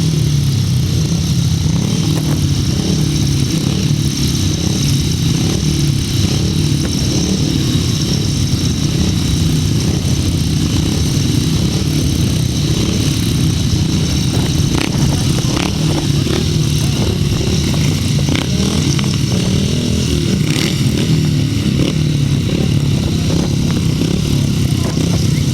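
500cc solo grasstrack racing motorcycles idle and rev at the start line, a loud continuous engine rumble from many machines that holds steady, with faint voices in the background.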